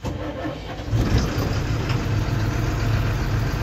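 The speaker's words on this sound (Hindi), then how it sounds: "हमने गाड़ी को स्टार्ट कर लिया।" An Ashok Leyland 4923 BS4 truck with a diesel engine that has white smoke and low pickup starts up close by, rising abruptly into a steady, rough idle.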